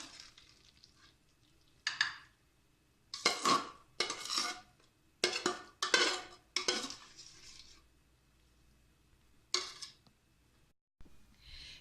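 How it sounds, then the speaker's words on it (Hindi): A spoon scrapes and clinks against a greased dish while meat pudding batter is spread in it: bursts of sharp scraping in irregular clusters, close and fairly quiet, with short pauses between strokes. "ये मैंने डिश में फैला लिया है जो बैटर बनाया था।"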